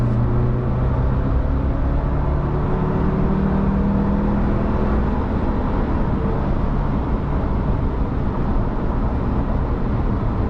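A 2025 Ford Ranger with the 2.3L inline-four turbo accelerates on a highway, giving a steady, fairly loud engine drone with rising tones under road and wind noise, with no talking.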